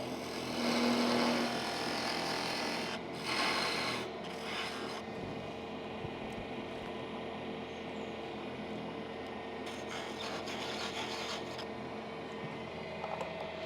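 Wood being cut on a lathe while a ball is turned at a woodturning club demo, a faint steady scraping rasp with a low machine hum beneath, a few brief louder bursts early on.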